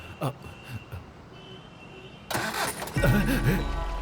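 A car engine cranks and starts after a quiet stretch with a few soft knocks, then settles into a loud, close idle with a rough rumble.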